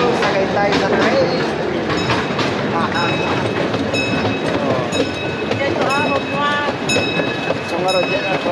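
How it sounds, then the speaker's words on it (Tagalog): A train in Taiwan rolls along the rails with a loud, steady rumble and clatter, with squeals and tonal whines rising above it, and voices chatting nearby. "Sakay tayo sa train."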